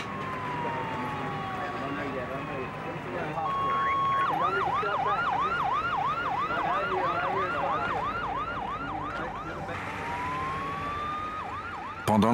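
An ambulance siren wails on a roadside, long rising-and-falling tones that switch to a fast whooping yelp in the middle before returning to the slow wail, loud and close over low road noise.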